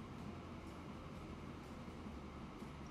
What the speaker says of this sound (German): Ich wollte gerade sagen, das erste Zug, aber der fährt doch bis durch.